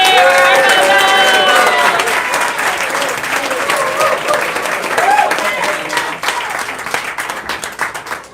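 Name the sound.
audience applause for Sophie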